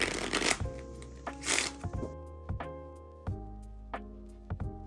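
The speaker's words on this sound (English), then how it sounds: "It's a totally fair shuffle." A deck of playing cards is shuffled up close, with quick riffling bursts followed by sharp taps and snaps as the cards are squared, in irregular clusters over a faint background hum.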